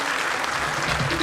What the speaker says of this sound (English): Give them a round of applause, our 6 finalists.